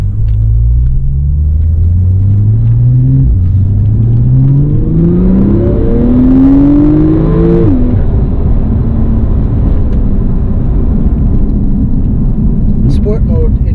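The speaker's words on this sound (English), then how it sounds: "Right now we're taking out the 2017 911 Turbo." A 2017 Porsche 911 Turbo with PDK in sport mode accelerating hard, the engine note climbing through several gear changes before easing into a low steady rumble, loud from inside the car.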